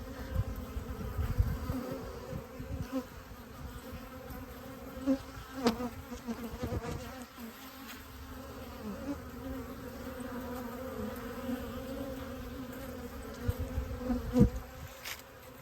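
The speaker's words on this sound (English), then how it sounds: "I looked away from my phone and looked at the bee and it was gone." Honeybees buzz faintly around a hive in winter, a soft, steady hum with a few louder passes of individual bees flying near, with no talking.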